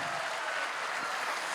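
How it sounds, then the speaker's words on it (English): Audience applause at a school annual day event, a steady, dense wash of clapping that holds evenly throughout without voices. "We can give them a round of applause in absentia."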